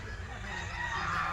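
Chickens on a farm in Dhamrai upazila cluck and call in a brief, continuous burst of fowl noise amid steady outdoor background.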